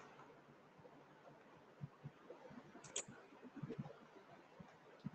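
Faint, scattered clicks of keys being typed on a computer keyboard in a classroom computer lesson, irregular taps over a quiet room hum.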